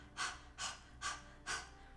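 Panting breaths forced out through an open mouth like a dog's, used as a breathing drill for singers: four short, sharp, evenly spaced puffs, faint and close, with no talk.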